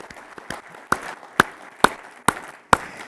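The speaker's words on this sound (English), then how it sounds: "you can clap for yourselves on that one" Sparse, scattered clapping from a small audience at an aviation industry press conference, about six distinct claps spaced roughly evenly, fairly close and moderately loud, with no voices.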